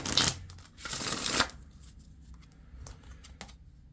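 Oracle cards are shuffled by hand in a few quick riffling bursts near the start, followed by softer, scattered card slides and taps in a quiet room.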